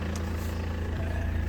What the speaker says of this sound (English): Yeah, that's squeaky noise from the alternator.